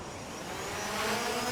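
A drone flies nearby, its steady whirring hum holding throughout and swelling slightly louder toward the end, with no voices.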